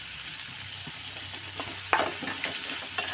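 Cumin seeds, a spoonful, hitting hot oil for a fenugreek kootu, giving a steady bright sizzle with a few louder crackles and stirring clicks, close and continuous with no talk.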